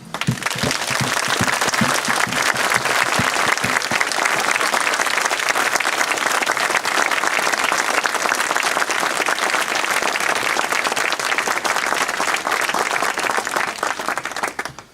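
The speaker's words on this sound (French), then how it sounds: "Témoignons-leur notre solidarité et rendons-leur hommage par nos applaudissements." A crowd applauds steadily and loudly, the dense clapping holding at an even level for the whole stretch before easing off at the very end.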